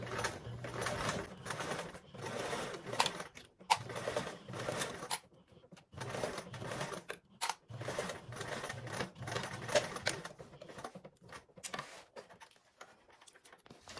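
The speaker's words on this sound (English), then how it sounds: "I'm essentially holding my sides together and back tacking within all one go." Sewing machine stitching a seam with back tacking on a bag pattern with a D-ring, running in several steady bursts of rapid mechanical chatter with brief pauses between, close and fairly loud, no talk.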